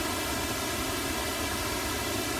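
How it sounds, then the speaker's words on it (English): Steady pink noise processed with a 3 millisecond Haas delay, a constant broadband hiss with shifting comb-filter notches, continuous and even throughout with no voices. "Here Haas is being applied to our pink noise with a 3 millisecond delay."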